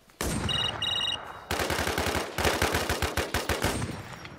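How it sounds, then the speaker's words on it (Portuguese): Rapid bursts of automatic gunfire rattle loudly and continuously in the Infestation The New Z shooter game. A brief electronic beeping tone comes first, then dense overlapping shots fire in quick rhythmic volleys. "Dois caras já me atirando"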